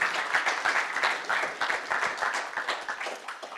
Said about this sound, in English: give another round of applause to Dr. Tilman Ruff and Dr. Bruce Amundson